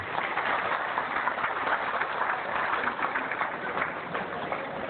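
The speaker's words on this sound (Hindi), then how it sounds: "एक बार जोरदार तालियां भाई इनके लिए" Loud, sustained applause from a crowd at a yoga camp held in a jail, dense steady clapping filling the whole stretch without pause or talk.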